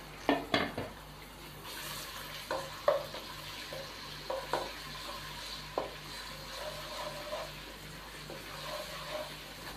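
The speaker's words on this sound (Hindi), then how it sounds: "ऑयल हमारा गर्म हो चुका है, अब इसके अंदर 2 टीस्पून अदरक लहसुन का पेस्ट जाएगा" Ginger garlic paste fries in hot oil in a wok, a soft continuous sizzle with occasional louder stirring scrapes and clinks of a utensil against the pan, no talking.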